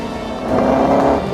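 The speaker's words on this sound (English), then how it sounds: "Somewhere that's never echoed to the sound of its thunderous 3-litre straight-8 engine." A classic racing car with a 3-litre straight-8 engine roars past nearby, its rough engine note swelling loudly and then holding steady.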